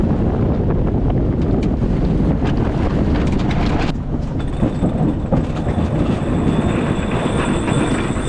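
Strong 25 to 30 knot wind buffets a microphone aboard a sailboat on San Francisco Bay, a loud, continuous roaring rush with gusting surges and water noise, close and dense throughout.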